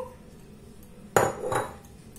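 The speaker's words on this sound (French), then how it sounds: "je vais mélanger tous mes ingrédients ensemble" Salad ingredients for an Asian-style salad being tossed together in a bowl, a single sharp clatter followed by a softer knock of utensil against the dish, close and alone.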